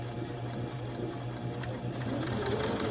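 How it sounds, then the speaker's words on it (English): A sewing machine stitches two pieces of fabric together with a steady, quiet, rapid mechanical whir heard up close and alone. "let's start sewing"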